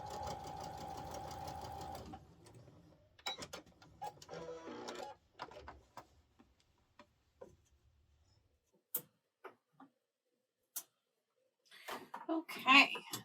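A sewing machine stitches cotton fabric half square triangles in a sustained whir of a couple of seconds, followed by quieter handling clicks and scattered taps, with brief faint voices near the end.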